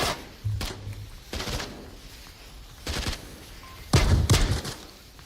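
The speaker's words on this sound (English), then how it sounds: "Bacon just shooting through the smoke with the shotgun." Shotgun fire in a VR first-person shooter match, shooting through smoke. Several sharp, punchy blasts come at irregular intervals over a few seconds, with a quick double shot near the end.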